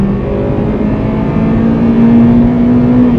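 A Honda Integra DC5 engine revs high into VTEC on snow tyres, a loud, close whine climbing steadily in pitch without a break, no voices over it.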